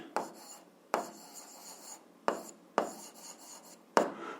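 Chalk or marker scratches across a classroom board as an algebra equation is written, five sharp-onset strokes each trailing into a rough scraping stroke, close and clear, with no speech.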